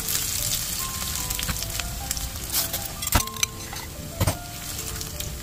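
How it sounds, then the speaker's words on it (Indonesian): Chopped garlic and onion sautéing in hot cooking oil for fried rice, a steady close sizzle with occasional clinks and scrapes of a utensil against the pan, no talking. "tambahkan bawang putih yang dicincang dan bawang besar yang dicincang. Tumis hingga mereka menjadi wangi"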